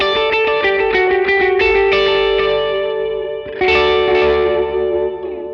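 Electric guitar runs through a Walrus Audio Fundamentals delay pedal in analog mode, playing ringing picked notes with echoing repeats, loud and close, with a brief dip before a new phrase and no talking.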